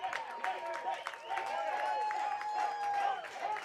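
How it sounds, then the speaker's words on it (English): A baseball crowd at Linquist Field chants and cheers in a rising, rhythmic swell, the massed voices moderately distant with scattered claps mixed in. "The crowd chants Hank at Linquist Field."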